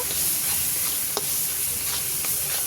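Cumin seeds and vegetables fry in a pan for a vegetable fish curry, a constant sizzling hiss broken by a few sharp scrapes and taps from a stirring spoon, with no voices.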